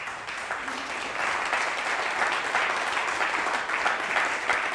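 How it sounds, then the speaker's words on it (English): An audience at a community film screening applauding, sustained clapping from a roomful of people that swells after a moment and stays steady, with no one speaking over it. "Can I have a big round of applause"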